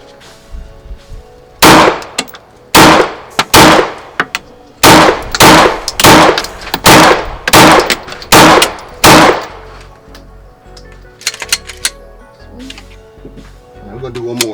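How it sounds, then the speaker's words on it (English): Stock Glock 19X pistol fired with iron sights at a target: about ten loud, sharp gunshots in an uneven series, each with a short ringing tail, then quiet background. "Now we got the stock Glock 19X. We're gonna shoot in the bottom right corner"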